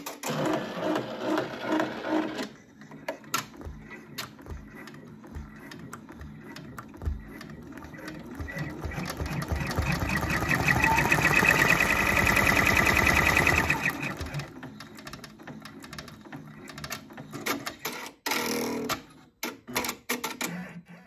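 An embroidery machine stitching the placement outline for a butterfly motif onto fabric in a hoop, with a steady rapid mechanical chatter building to a loud sustained run, then stopping, followed by scattered clicks and handling noises.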